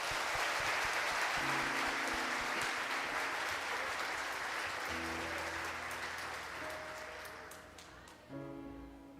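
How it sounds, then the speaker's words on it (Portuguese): Church congregation applauding during a sermon, a broad sustained clapping wash with organ or keyboard chords sounding underneath, gradually fading toward the end. "Dá um aplauso a Jesus agora."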